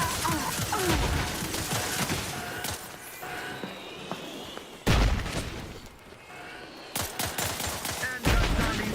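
Gunfire in The Outer Worlds 2 game, bursts of rapid shots and heavy booming impacts in an irregular rhythm, loud and punchy with brief quieter gaps between volleys.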